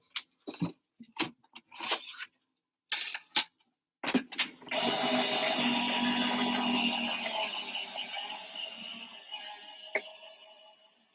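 A paper die-cutting machine rattles and clicks in short bursts, then a long grinding creak as paper is fed through, close and fairly loud before fading.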